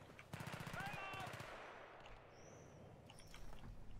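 Enemy automatic gunfire in the Battlefield 3 single-player campaign: a rapid rattling burst, a short pause, then a second burst, followed by a quieter stretch with faint distant noise and small whines.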